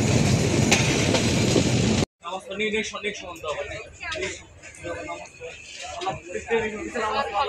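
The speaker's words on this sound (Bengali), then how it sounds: "রূপসা এক্সপ্রেস ট্রেনটি বিরামপুর রেলওয়ে স্টেশনে প্রবেশ করতেছে" The Rupsha Express intercity train rumbles and clatters as it rolls into Birampur railway station, wheels and carriages rattling steadily after a sudden cut, with voices talking in the background.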